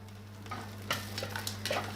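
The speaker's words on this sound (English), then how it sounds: "So you can hear that sizzling nicely there." Soft, steady sizzling of garlic frying in oil, with a few light crackles and pops scattered throughout at a moderate level.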